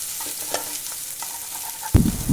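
Fish roe frying in oil in a pan for a potato curry, stirred with scattered soft scrapes and a low steady sizzle, ending in a loud close clatter of the utensil against the pan.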